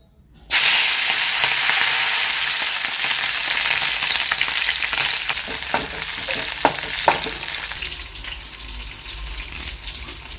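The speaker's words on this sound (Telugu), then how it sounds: "ఇప్పుడు మనం అయితే ఈ నూనెలో అయితే వేసేసుకుందాం పచ్చిమిరపకాయలు" Green chillies dropped into hot oil burst into a loud, steady sizzle that holds for about ten seconds, with a few faint clinks of a utensil near the end.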